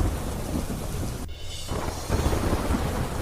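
Heavy rain and thunder in Haldwani, Uttarakhand: a steady dense roar of downpour with low rumbling, a brief dip in the wash partway through, then the full rain resumes, close and loud.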